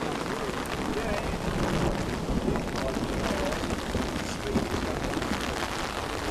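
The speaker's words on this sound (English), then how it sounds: "Big, big thunderstorm right over our heads." Heavy rain pours down steadily during a big thunderstorm over a carp-fishing lake, a dense, loud rush with wind buffeting the microphone and no pauses.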